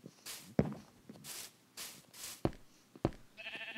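Sheep bleats in Minecraft, several short calls spaced between game footsteps and clicks, moderately loud and close.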